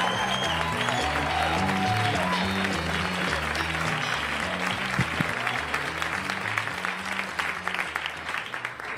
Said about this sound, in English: Let's give him a big rousing round of applause for Orlando Baxter, ladies and gentlemen.